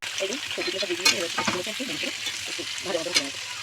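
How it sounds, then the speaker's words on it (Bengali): Chopped vegetables frying in oil with whole cumin, cardamom, cinnamon, cloves and bay leaf, a steady close sizzle with stirring clatter, with a voice speaking over it throughout. "এবার যে কাটা সবজিগুলো তেলের মধ্যে দিয়ে একটু ভেজে নেব"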